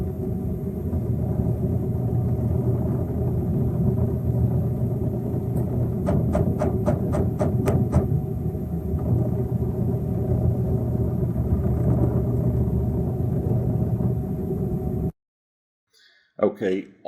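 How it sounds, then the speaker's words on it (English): Repeated soft thumping from the three-way valve of an LG refrigerator, a quick run of about eight evenly spaced thumps over steady low rumbling hum, then near silence. "As it moves, you'll hear like a thump"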